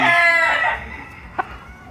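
A fighting rooster crows loudly and close, a single harmonic call that fades within the first second, followed by quieter background and one brief sharp knock.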